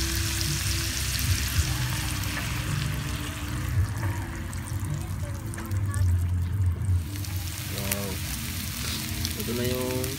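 An egg fries with bitter gourd in a pan, a continuous crackling sizzle throughout with faint stirring and clinks near the end, under a steady hum.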